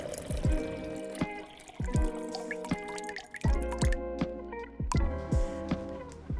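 Half an ounce of 2-to-1 cane syrup, made from cane sugar and water, pours into a metal cocktail tin, giving a run of close, bright drips and small liquid plinks that repeat unevenly for several seconds.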